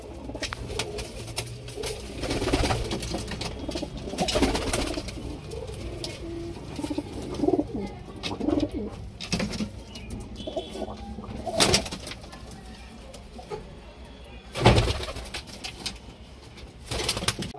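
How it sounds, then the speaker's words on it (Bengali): Domestic pigeons coo over and over at close range, with occasional louder bursts of rustling or wing noise among the calls. "আর দেশি পায়রা ঘোরাচ্ছি"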